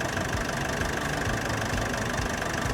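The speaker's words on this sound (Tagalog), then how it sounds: "Malinis yung makina. Maayos. Nakabuka siya. Maandar siya, guys." Engine of a 2020 Nissan Urvan NV350 18-seater van idling, a steady, even diesel-like rumble with a faint rhythmic knock, heard close and continuous with no talk.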